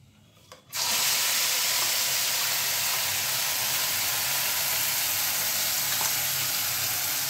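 A Bengali spice paste for methi malai chicken hits hot oil in a kadai with a sudden, loud sizzle that flares up after a brief quiet moment and then holds as a steady, bright frying hiss. Nobody talks.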